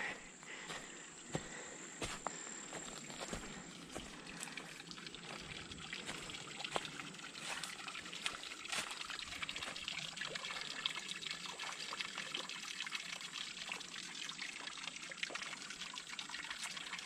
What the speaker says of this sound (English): here is LaBarge Spring, and I guess it's year-round running spring water